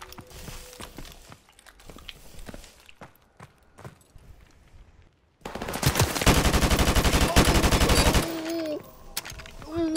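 AK rifle gunfire in a first-person shooter video game: a loud, rapid automatic burst lasting a few seconds, following quieter footsteps and faint shots, with a voice briefly heard afterward.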